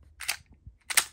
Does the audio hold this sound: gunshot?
yes